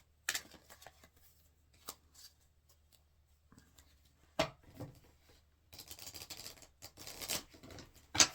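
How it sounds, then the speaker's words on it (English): Tarot and oracle cards being shuffled by hand in quick papery riffles and soft slaps, in bursts with short pauses, close and fairly quiet. "Let me shuffle it up."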